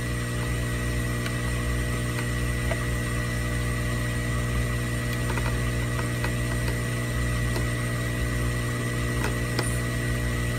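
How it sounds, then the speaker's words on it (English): Cooling fan of a mid-2009 17-inch MacBook Pro running hot at high speed after repair, a loud, steady whirring drone with a constant hum that holds throughout without talk. "You can see the fan is spinning and it is revving up to full speed because it's hot still."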